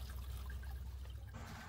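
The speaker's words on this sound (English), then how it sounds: "You can see that water just pours off of there." Heavy rainwater pouring off a roof into a downspout during hard rain, a steady continuous wash of running and trickling water with low rumble, fairly faint and alone.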